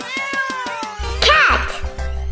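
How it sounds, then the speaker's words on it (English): A cat meows in a children's animal song, the mew sweeping up and down over a steady musical backing, loud and close for about a second. "This is cat! Meow, meow, meow, meow, meow, meow."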